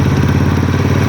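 Steady, close idle of a motorcycle engine during carburetor adjustment, a low even rumble with light mechanical clatter and no voices.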